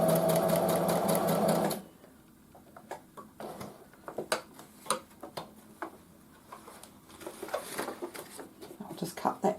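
A domestic sewing machine running a straight stitch through fabric: a dense steady whirring burst at the start, then lighter intermittent ticking and clicking of the machine working in short runs.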